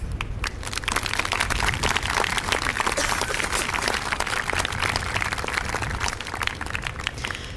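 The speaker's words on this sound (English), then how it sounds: "I want to ask you, the graduating 8th graders, to give a warm applause for all these people" Audience applause at a 2014 middle school graduation ceremony, honoring the supporters of graduating 8th graders: dense, sustained clapping from a crowd, steady and fairly loud throughout, with no speech over it.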